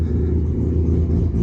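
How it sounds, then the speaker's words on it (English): A Mazda RX7 FD with a built engine of over 700 bhp idles nearby, a steady loud low rumble with a faint lumpy pulse and no revving, heard alone. "I can hear Mark's car running"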